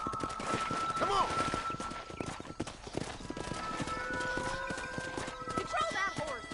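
Horse hooves clip-clop in a quick, steady rhythm in Red Dead Redemption, with whinnies, musical tones and voices layered over the beat.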